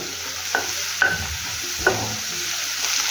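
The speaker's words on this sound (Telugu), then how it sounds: "మెంతి కూర బాగా ఫ్రై అయిపోయిందండి" Fenugreek leaves fry in a pan over low to medium heat, giving a steady soft sizzle broken by a few sharp scraping stirs, close and moderately loud with no talking.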